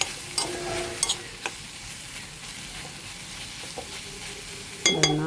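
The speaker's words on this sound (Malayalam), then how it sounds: "നമുക്കിതൊന്ന് നന്നായി ഇളക്കി കൊടുക്കാം." Pumpkin leaves and egg stir-fried in a pan for a thoran, with a steady soft sizzle under occasional scraping clinks of a spoon against the pan, a few sharper knocks near the end.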